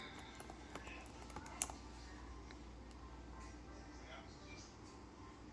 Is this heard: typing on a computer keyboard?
yes